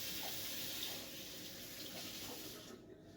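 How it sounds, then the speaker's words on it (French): Tap water runs steadily into a sink as fingers are rinsed under it, a continuous close hiss and splash that cuts off near the end, with no voices. "Je vais me rincer un peu les doigts"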